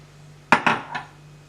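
A utensil scrapes and clinks against a pot on a stovetop while lemon pudding ingredients (lemon powder, sugar, egg yolks, water) are mixed: three quick, close metallic knocks over a low steady hum, no talking.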